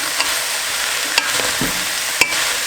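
Peppers, carrots and celery sauté in a pan with a loud, even sizzle, while a spoon stirring through them adds a few light clicks and scrapes.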